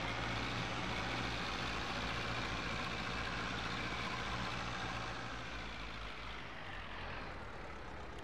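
A Zetor UR1 tractor driving in Farming Simulator 22 at about 26 km/h, a steady low diesel drone and rumble that holds evenly throughout and eases slightly toward the end.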